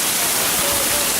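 Heavy rain falls during a tornado watch, heard as a loud, dense, continuous wash of broadband hiss with no pauses over a very brief moment.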